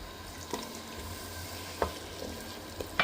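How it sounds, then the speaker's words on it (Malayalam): Yogurt goes into mutton curry masala frying with chili and turmeric powder, producing a quiet, steady sizzle broken by a few soft knocks and scrapes of stirring. "ഇതിലേക്ക് തൈര് ചേർക്കും."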